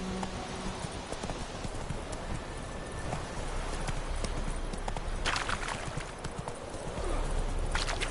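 Roach, a horse in The Witcher 3, trots with a steady, close clip-clop of hooves over a busy game soundscape of ambient noise, with occasional louder bursts.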